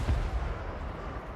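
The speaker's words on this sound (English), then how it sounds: "cannons firing away once again" Cannons fire in a Total War: Warhammer II battle, a dense rumbling barrage of booms blending into a continuous low roar without clear gaps.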